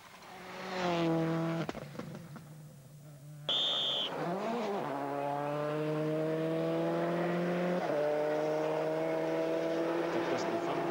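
A Subaru Impreza rally car at a 1999 rally in Tielt revs hard and slides, its engine note rising and falling through gear changes, with a brief squeal midway and a faint commentary voice beneath.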